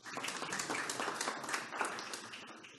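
Faint applause from a press conference audience, steady clapping for a few seconds, distant and fairly quiet.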